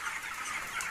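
Many chickens cluck together in a poultry farm, a dense, continuous murmur of overlapping calls at a moderate distance.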